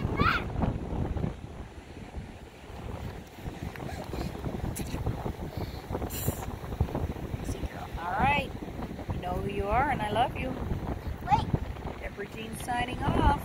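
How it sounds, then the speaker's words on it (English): Wind blows outdoors, gusting across the microphone as a rough low rumble that persists beneath people talking close by. "The wind's blowing me away."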